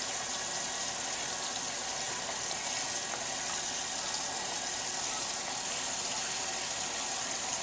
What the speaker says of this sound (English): switch around on my hand as I rinse it out